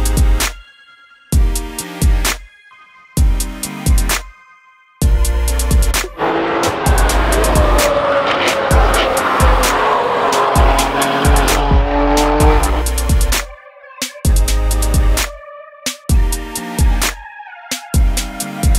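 A toy race car gives short bursts of engine and tire-squeal sounds, separated by silent gaps, with one longer sustained revving stretch in the middle; loud and close.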